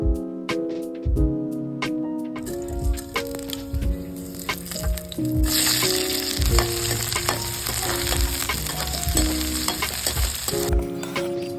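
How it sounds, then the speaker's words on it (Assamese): Local chicken meat fries in a pan with steady sizzling, crackling and stirring scrapes, loud and close throughout, with no talking. "মাংসখিনি ভালদৰে ভাজি লোৱাৰ পিছত"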